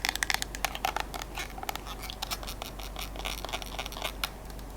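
Rapid tapping and scratching on a ridged plastic bottle, close and crisp, with bursts of sharp clicks and scrapes in an irregular fast rhythm and no talking.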